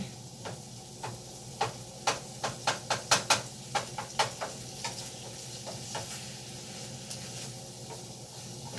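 Onions frying in a pan for hamburger gravy, a steady background sizzle with a quick run of rhythmic spatula scrapes and taps in the middle, close and moderately loud.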